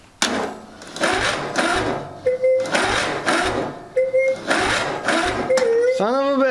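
A tractor engine cranks on weak batteries without catching, making a loud, close series of rhythmic starter bursts broken by brief pauses, with a short rising whine at the end.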